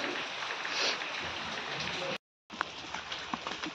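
Heavy rain in a village outdoors, a dense steady hiss of falling water with a brief cut-out partway, and a few faint clicks near the end.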